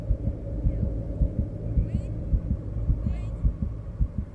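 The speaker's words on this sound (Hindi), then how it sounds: "आपका दिल है? रेलगाड़ी से धक धक धक धक धक धक धक कैसे चल रहा है?" A fast heartbeat sound effect thumps in a steady, rapid double-beat rhythm, deep and prominent over a low hum, with faint high sounds briefly in the background.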